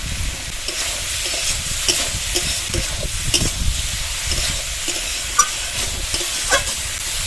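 Ridge gourd cooks over high heat with salt, turmeric, red chili powder and green chili paste, sizzling steadily in a pan while a spatula scrapes and knocks in irregular strokes, close and fairly loud, with no talking.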